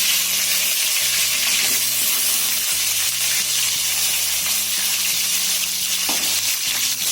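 Curry leaves, dried chilies, garlic and onion sizzle steadily in hot oil for a South Indian vegetable sambar tempering, a loud continuous frying crackle with faint stirring and utensil clinks, no voices.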